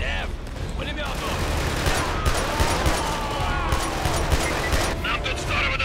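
Sustained machine-gun fire in Killzone 2, a mounted gun defending a convoy, dense rapid bursts mixed with explosions and booms, loud and continuous, with voices underneath.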